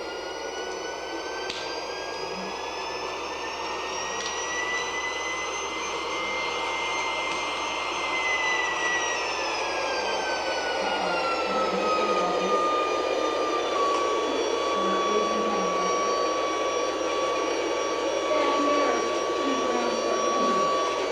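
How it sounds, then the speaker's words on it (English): Engine of a model airplane taking off indoors, a steady loud whine with several harmonic tones that slowly drop in pitch midway and then hold, running continuously throughout. "Listen to the engine there."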